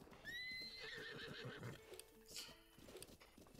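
A horse in the Breath of the Wild video game gives a loud, rising whinny, followed by a rapid clip-clop of hooves and rustling movement, with no talk.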